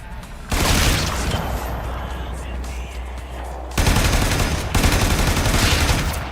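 An explosion with debris falling in the video game Warframe, a loud roaring blast followed by sustained rumbling and crashing bursts, dense and noisy throughout with no talk.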